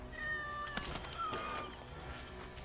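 An Abyssinian cat in Assassin's Creed Origins lets out a couple of close, drawn-out meows with a rising, whiny pitch over soft game ambience.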